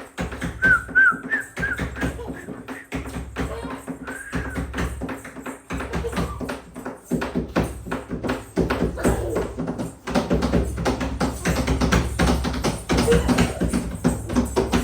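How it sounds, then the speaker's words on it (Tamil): A person whistles short, bright notes over rhythmic drum taps at a lively family dance in a village home, with clapping and music around. "விசில் அடிக்க வாமா விசில் அடிக்கிற மாதிரி"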